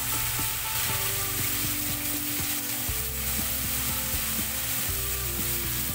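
Chicken tikka sizzles and fries steadily in a pan after a splash of water goes in, a loud continuous crackling hiss with occasional scraping or clinking of a utensil against the pan, no talking.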